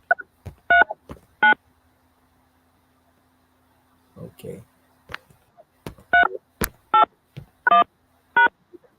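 Telephone keypad DTMF tones entering an access code for a phone meeting line, a run of short evenly spaced beeps with pauses, one brief spoken word among them.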